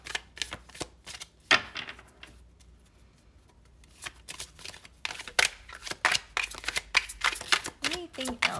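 Tarot cards are shuffled and flipped during a pick-a-card reading, producing bursts of crisp riffling and slapping card sounds with pauses between them, close and moderately loud, with a voice talking in between.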